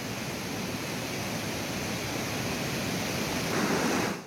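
Heavy floodwater roars through the 33 opened gates of the Gosikhurd dam on the Wainganga river during monsoon rains, a dense, continuous rushing wash that stays loud and steady throughout.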